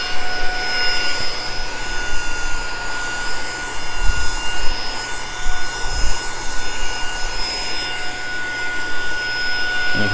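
Saker 3 in 1 mini vacuum cleaner running, a loud steady motor whine with an airy hiss and a few brief dips in pitch, close and continuous with no talk.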